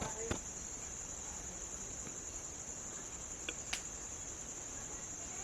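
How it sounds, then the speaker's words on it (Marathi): Faint, steady chirping of night crickets around a village at night, a continuous thin insect trill holding evenly throughout with a couple of brief clicks over a quiet background. "एकदम असं छोटासा आवाज येतो. बाकी असं मोठ्या रातकिड्यांचा आवाज येत नाही आहे."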